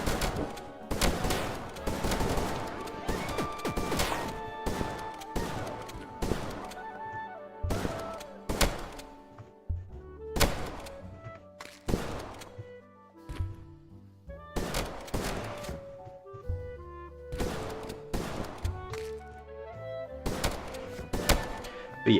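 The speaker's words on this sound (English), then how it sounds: "But overall, I'm pretty happy with the shotgun." A shotgun fires repeatedly in an indie video game demo, loud sharp blasts spaced irregularly over about twenty seconds, each with a short ringing tail and no talking.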